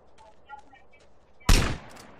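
A single loud gunshot burst in a GTA San Andreas DYOM mission, a sharp crack midway through, after quiet game ambience with faint voice-like sounds.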